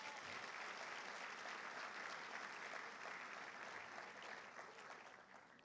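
A church congregation claps continuously in thick, even applause that fills the room, heard at a distance and quite faint, without voices over it.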